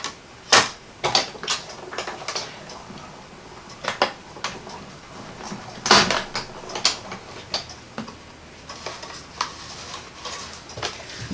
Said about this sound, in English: I love using my die cut machine.